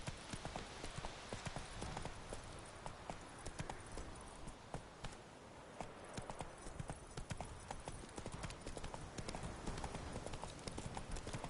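Horse hooves clip-clopping in The Witcher 3, a rapid, dense run of close, loud hoofbeats at a steady gallop-like pace throughout.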